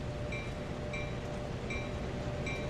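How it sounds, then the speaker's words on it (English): A train from Train Sim 2020 rolls steadily along the track in a continuous rumbling wash, with faint repeating squeaky tones riding over the steady rail noise and no voices. "look down at our beautiful train that's gonna be coming"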